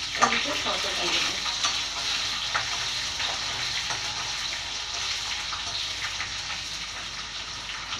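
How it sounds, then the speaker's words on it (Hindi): Onions sauté in a pan in a steady, close sizzle with soft stirring scrapes and occasional crackles throughout, and no voices over it. "देन हमने ये प्याज डाल दिया और इसे सॉटे कर लिया।"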